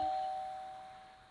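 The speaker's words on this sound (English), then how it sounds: "We also have the doorbell here. Ring!" A doorbell rings once inside a Roblox city roleplay game, a single steady electronic chime that starts at once and fades slowly over about a second, heard alone.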